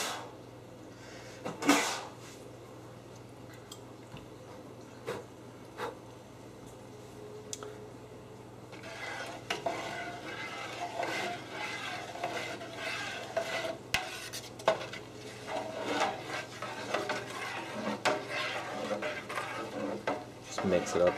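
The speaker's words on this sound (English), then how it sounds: "Just mix it up a bit." Stirring and mixing a homemade two-part alkalinity solution in a pot on an electric stove: a brief clink at first, then a steady soft swishing and scraping that builds toward the end, with no one talking.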